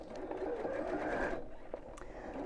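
A domestic sewing machine stitches fabric in a quick mechanical whir that runs for over a second, then stops with a few small clicks.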